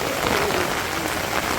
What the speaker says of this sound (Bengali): একটু বৃষ্টিটা শেয়ার করি আমিও দেখি আপনারাও দেখেন